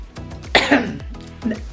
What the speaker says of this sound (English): I just had to cough.